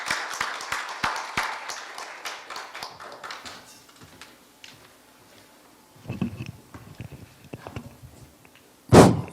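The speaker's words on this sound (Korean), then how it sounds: "박수해 주십시오" Audience at a university higher-education forum clapping for a presenter, a burst of sharp close claps that quickly thins to scattered claps and fades, followed by a few soft handling noises and a loud thump at the end.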